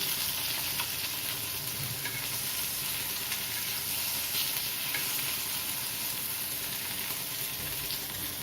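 Fish fries in a pan of oil over medium heat, a steady close sizzle and crackle that runs unbroken for the whole stretch, with no voices over it.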